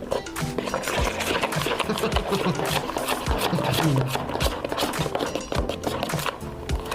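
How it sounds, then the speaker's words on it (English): A mixer whirs steadily while pudding is mixed, its buzzing motor blended with clattering and scraping from the bowl, as people talk throughout. "while Hunter's mixing that"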